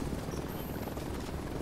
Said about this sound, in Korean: 헬기 오죠?